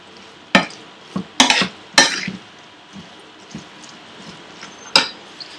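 Beans being stirred in a frying pan with Indian spices, a spoon scraping and tossing them in several sharp bursts over a soft ongoing sizzle, close and fairly loud.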